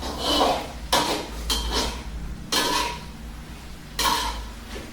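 Stir-fried kale and minced pork being stirred in a pan for a Thai dish, with several loud, broad scraping strokes of the utensil against the pan at an irregular pace, close up and without talk.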